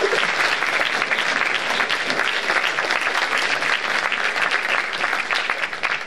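Sustained audience applause in a hall after a religious testimony at a forum, a dense, loud, even wash of many hands clapping throughout.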